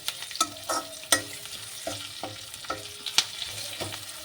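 Green chillies tempering in hot oil in a pan: a quiet, steady sizzle broken by several sharp scraping clicks of a spoon stirring, with no voices.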